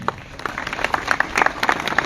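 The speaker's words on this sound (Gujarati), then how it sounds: "મહેશભાઈ માટે આપણે બધા જોરદાર તાળીઓ પાડીએ" A crowd at a Gujarat farmers' rally claps steadily, with sharp scattered claps building into a dense patter of applause that carries on throughout.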